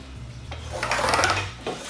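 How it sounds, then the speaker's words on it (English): A pencil or marking tool drawn across lumber to strike lines on marks while building a workbench, a short scratchy rasping stroke or two, close and quiet, with a faint low hum beneath. "I'm going to come back and just strike a line down each of these marks."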